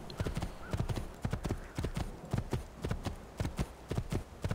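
Galloping horse in the video game Assassin's Creed 2, rapid rhythmic hoof clip-clops close and clear, with soft game sounds underneath.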